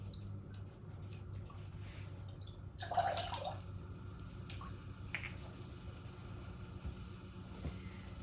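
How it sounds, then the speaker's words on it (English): A paintbrush is swished and rinsed in a water cup while acrylic painting, a brief splashy sloshing near the middle with faint drips and tapping over a low background hum. "I'm going to rinse my brush out."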